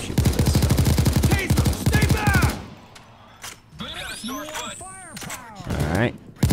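Rapid automatic gunfire from a weapon in the video game Payday 2, a dense loud burst of shots followed by sparser in-game firing, effects and voices.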